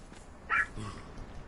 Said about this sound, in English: Basenjis are supposed to be the only dog that don't bark. But you know what? They bark.